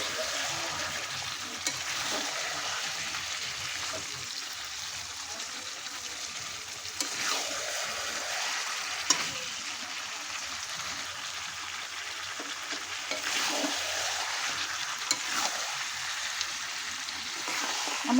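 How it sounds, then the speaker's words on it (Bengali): Goat meat frying in a pan with a paste of ginger, garlic, onion and dried red chili, giving a steady sizzle with occasional stirring scrapes throughout, no voices. "আদা, রসুন, পেঁয়াজ আর শুকনো লঙ্কার পেস্ট দেওয়া আছে, দিয়ে খুব ভালো করে এখন আমি কষিয়ে নেব।"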